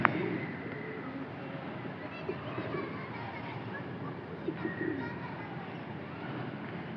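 Pigeons in an outdoor loft coo softly and intermittently, with a few faint bird chirps over a steady background hiss.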